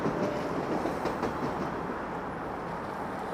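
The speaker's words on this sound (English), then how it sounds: "Dueling subway trains." Subway trains passing in Toronto, a loud rumbling rush with faint rhythmic clatter of wheels on rails, steady throughout and no one speaking.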